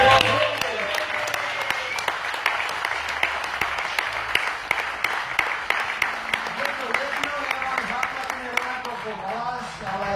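Crowd applause for a band at the Pohoda 2016 festival: dense, steady clapping through the whole stretch, with a voice and musical tones sounding over it.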